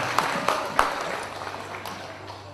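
Audience applause welcoming a group of children at the close of a Hindi guru festival event, a diffuse clatter of many hands with a few sharper claps standing out, fading gradually over a couple of seconds.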